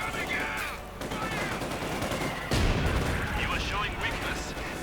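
Company of Heroes 2 battle: a grenade blast lands on an MG-42 position amid rattling machine-gun fire and booming explosions, loud and continuous, with someone commentating over the combat.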